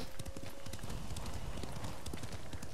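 Horse hooves clip-clop at a steady trot in Ghost of Tsushima, a busy rhythm of soft thuds set against game ambience with a faint whinny, close and moderately loud.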